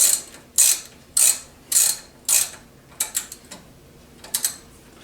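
Hand ratchet on the wheel hub bolts of a 2002 Ford Explorer during a hub and knuckle install: five sharp, close ratcheting bursts in steady rhythm, then a quicker run of lighter clicks, with no talking.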